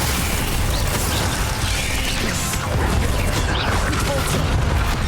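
Spells fire in the Hogwarts Legacy video game, with a dense barrage of booming blasts, crashes and crackling bursts that pile up without pause. Loud and close throughout.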